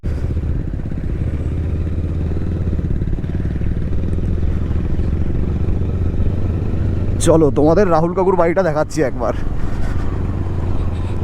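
Motorbikes fitted with off-road tyres cruise along a paved road between Kalyani and Siliguri, a steady low engine and tyre drone running throughout while someone speaks briefly near the end.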